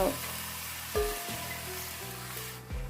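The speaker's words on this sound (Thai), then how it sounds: "ใส่ผักสารพัดผักลงไป นะเจ้า ผักที่เฮาหั่นเฮาซอยตะกี้นะเจ้า" Chopped vegetables stir-frying with soy sauce in a pan for a northern Thai mixed stir-fry, a close, steady sizzle with a few clanks and scrapes from stirring.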